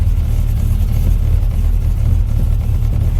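A stroker engine running rich in a Jeep with a Renix system, a loud steady low rumble close by, held at a constant throttle.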